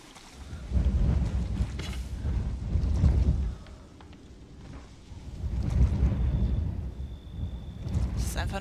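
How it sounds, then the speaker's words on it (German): Low, gusting video game wind in Resident Evil 7 rumbles in broad swells, rising and easing twice, with a faint steady tone near the end. "Das ist einfach nur der Wind."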